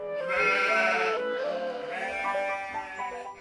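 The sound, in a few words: goats bleating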